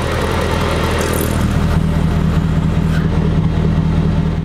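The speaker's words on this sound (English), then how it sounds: "We actually put in one switch for an active exhaust." A V8 Hummer off-roader idles steadily with its active exhaust opened, giving a loud, continuous low rumble with a throbbing beat that holds at the same level throughout, with no voices over it.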